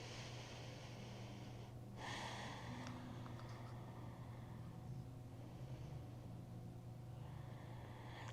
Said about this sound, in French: On prend encore 3 longues respirations.